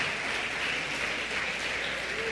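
A church congregation claps together in a steady, dense wash of applause that stays even and moderately loud throughout, with no voices standing out.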